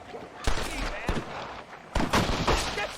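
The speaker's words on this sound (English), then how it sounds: "They're shooting down on us!" Shots ring out in a Red Dead Redemption gunfight: sharp, loud cracks at irregular intervals, with a heavier cluster near the end, over shouting voices and rumbling game noise.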